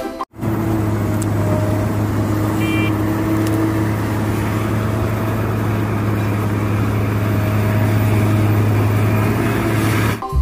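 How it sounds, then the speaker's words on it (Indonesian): An excavator's diesel engine runs close by, a loud, steady, low droning hum that holds unbroken for the whole stretch, with no speech. "Di sini ada mobil beko."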